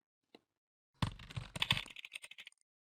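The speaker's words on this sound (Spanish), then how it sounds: "Ahí estoy escuchando un teclado, alguien está tecleando." A short burst of computer keyboard typing: rapid, close clicking keystrokes for about a second and a half after a single stray tap.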